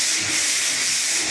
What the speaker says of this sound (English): I am sanding joint compound on the drywall with my sanding pole thing here